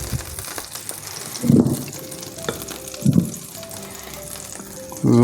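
Butter sizzling in a hot pan on lowered heat before Kaiserschmarrn batter goes in, a steady crackling fry with a few louder spatter bursts and a faint clink of utensils.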